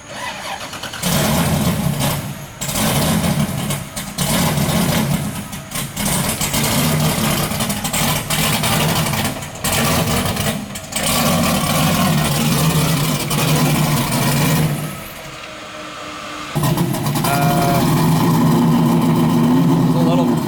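An LS3-engined Nissan S13 runs and revs at mid pitch while driving up onto a trailer, rising and falling in pushes, with a short lull before it picks up again; people talk over it.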